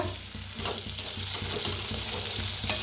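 Potato pieces frying in a pan give a steady, soft sizzle with occasional scraping stirs, close by and with no voices.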